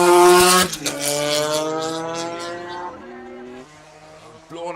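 A Triumph racing motorcycle on the Tandragee 100 road course roars loudly past, its engine note dropping in pitch as it recedes and changes down the gears, with the echo lingering before another bike approaches.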